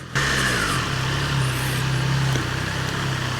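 Triumph Trident 660 motorcycle engine droning steadily at low revs while riding in slow traffic, a continuous near hum with a slight pitch rise and fall.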